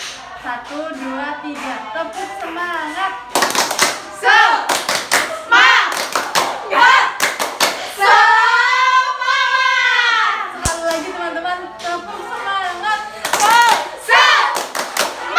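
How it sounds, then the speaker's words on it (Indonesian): Group of people performing a rhythmic spirit clap, bursts of sharp hand claps in patterned sequences interleaved with chanting and talking voices close by. "Oke, bisa kita 1, 2, 3 tepuk semangat."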